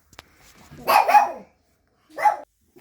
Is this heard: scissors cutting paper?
no